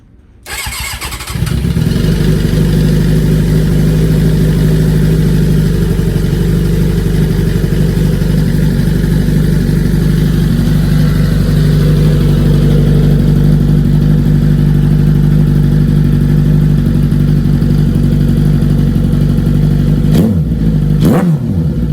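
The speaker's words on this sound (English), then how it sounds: "you guys haven't even got to hear how the bike sounds" A motorcycle engine just fitted with a new clutch starts and idles steadily, loud and close, with a low rumbling throb that holds for about twenty seconds before a quick rev near the end; no voices.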